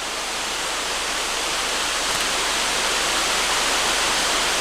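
Steady, dense roar of rushing water, loud and unbroken throughout, like a nearby waterfall pouring without pause.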